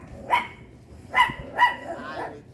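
A puppy in a Walmart store gives three sharp, high yips close by, spaced about half a second apart, followed by a softer whine.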